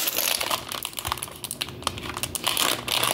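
Crinkling and tearing as a plastic bag of building-set pieces is ripped open with teeth, a close, rapid, rustling crackle that continues throughout with no talk.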